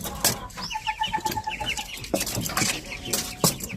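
Japanese Shamo chickens cluck and call repeatedly in short bursts, close and fairly loud, with a quick run of clucks in the middle and scattered farmyard noise.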